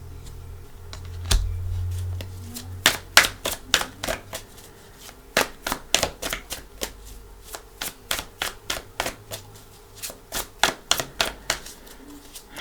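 Tarot cards being shuffled by hand in a quiet room, a run of crisp, rapid riffling snaps and taps repeating in bursts for several seconds, close and clear with no talking.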